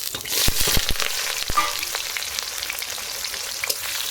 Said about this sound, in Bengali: এর ভিতরেই আমি দিয়ে দেবো এই যে পেঁয়াজ কুচানো